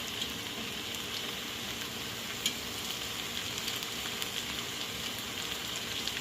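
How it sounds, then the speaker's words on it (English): Spaghetti sauce and seasonings pouring into a pot with meatballs, giving a steady soft sizzling, wet crackle with a few small clicks, heard close and unbroken for several seconds. "we're going to add our sauces, our spaghetti sauces, and our seasonings. Into the pot it goes."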